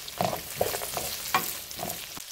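Brussels sprouts with chopped walnuts fry in a pan and are stirred, giving a close sizzle broken by several quick scraping, clattering strokes of the spoon.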